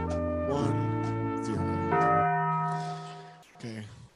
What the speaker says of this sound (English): I just love that Taco Bell timer.